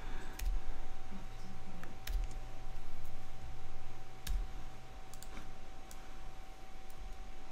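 Computer keyboard typing with scattered sharp key clicks and taps, several of them distinct, over a steady low electrical hum and a constant whine, with no talking.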